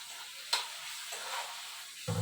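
Onions for a mushroom curry cooking in a pan, giving a steady soft sizzle with a couple of brief stirring scrapes, a louder clatter near the end.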